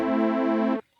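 Single sustained synthesizer note on an Arturia synth, a bright buzzy harmonic-rich tone with its filter tracking the keyboard, held steadily for under a second then cut off cleanly.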